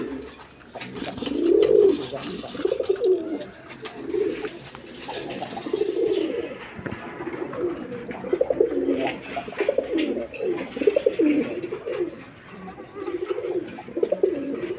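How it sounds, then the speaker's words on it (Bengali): Two pigeons, a hen and a cock, coo in soft overlapping rolls, close and continuous, with no talking over them. "সামনে একটা মাদি, পিছনে একটা নর। একদম কোয়ালিটি ফুল কবুতর।"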